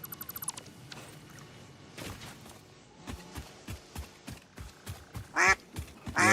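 A video game duck quacks in repeated short bursts over a busy backdrop of game thumps and effects, with a couple of louder squawks near the end; no one speaks.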